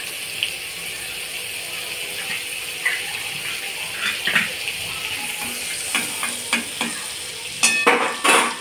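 Butter sizzles steadily in a kadai for a street-style masala corn dish, while a spatula stirs and scrapes in quick, irregular strokes that grow busier toward the end, close and clear.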